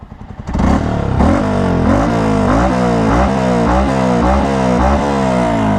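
A Yamaha R15V3 motorcycle fitted with a Ronin Hanzo exhaust in silent mode revs up close, a loud, rapid series of rising and falling engine bursts with a raspy burble, no talk.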